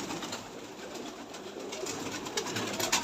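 Pigeons coo softly and steadily under a broad hiss of ambient noise, with a few faint wing flutters toward the end.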